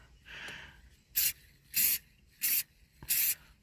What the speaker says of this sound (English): as with any spray cans, basically what you want to do is give it light coats